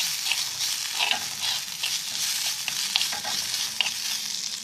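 Onions sautéing in a pan give a steady, close sizzle, broken now and then by the scrape and clatter of stirring, with no talk over it.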